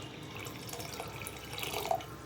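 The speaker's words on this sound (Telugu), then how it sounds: "వాటర్ వేసుకొని కొంచెం వేసుకుందాం వాటరు." Water trickles quietly into a cooking pot of chole curry, a faint, steady pour and splash close by with no speech.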